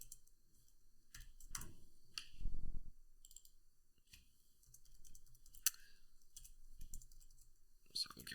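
A computer keyboard is tapped in short, quiet bursts of clicks as numeric values are entered by hand, with irregular pauses between keystrokes in a quiet room.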